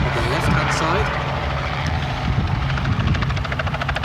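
Competition helicopter in flight at the Helicopter World Cup, a loud steady rotor thump and engine drone close by, with a commentator talking over it the whole time.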